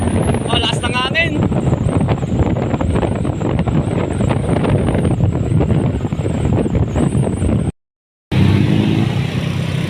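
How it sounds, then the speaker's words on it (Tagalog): Strong wind buffeting the microphone while riding along an expressway near a bridge, a loud continuous roar with engine drone underneath, briefly cutting out near the end. "Oh, lakas ng hangin."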